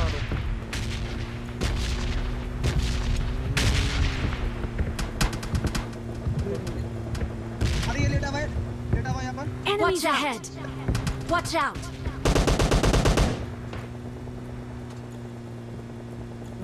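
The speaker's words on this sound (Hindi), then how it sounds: "और कहां से गोलियां आ रही हैं ये भी बताना।" Gunfire in the mobile battle game PUBG Mobile Lite, bursts of shots scattered through the round among bird calls and ambient game sounds, with a voice talking over it.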